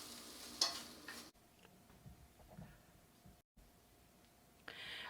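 Pasta tossed together in a pan for a meatless dish, giving a soft stirring, scraping shuffle with faint sizzling, broken by short gaps of near silence, quiet and close with no talking.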